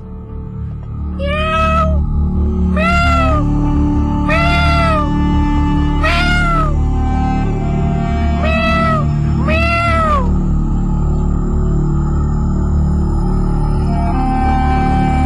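A cat blind in its left eye meows loudly six times in a row in front of a door, drawn-out and insistent, close by, with a low steady hum underneath.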